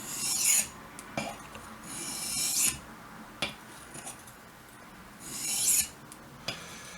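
A knife blade is drawn along its bevel on a sharpening surface in repeated rasping strokes, each a scraping swish with short gaps between. The sound is close and moderately quiet.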